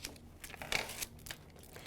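Used transfer tape for a craft project being handled close up, giving soft irregular crinkles and crackles with a few sharper rustles in the middle.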